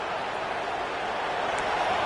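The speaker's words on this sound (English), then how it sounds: "And the crowd coming to life here, trying to help this defense down in the red zone" In College Football 26, a stadium crowd cheers as the defense digs in at the red zone, a constant, fairly distant roar that never drops out.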